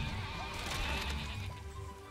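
Sheep bleat in the video game Overlord, a wavering animal cry rising out of a dense game soundscape of rumbling ambience, moderately loud and without speech.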